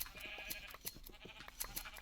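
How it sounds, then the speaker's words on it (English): Minecraft sheep bleat in short repeated bursts over a steady game backdrop, fairly quiet with no talking. "I can shear the sheep."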